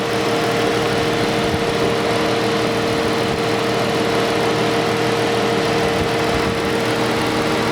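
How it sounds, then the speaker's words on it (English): A steady mechanical engine drone with a constant hum from a 2021 Dodge Charger police car's 3.6-liter engine, idling continuously at close range with no speech. "This is the engine."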